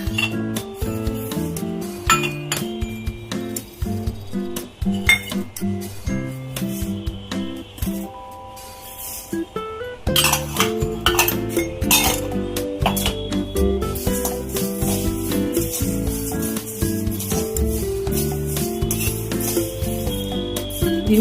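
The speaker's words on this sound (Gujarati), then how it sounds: "હવે આપણે આ બધા મસાલાને ધીમા ગેસે શેકી લઈશું." Whole spices including coriander, fennel, cumin, mustard seeds, fenugreek and nigella being stirred and dry-roasted in a pan over low flame for carrot-chili pickle, with continuous close metallic clinks and scraping throughout.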